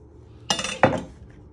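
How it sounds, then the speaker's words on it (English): A knife chops the head off a bell pepper on a board, two sharp close knocks in quick succession with a ringing clink, otherwise quiet. "You first want to chop the head off."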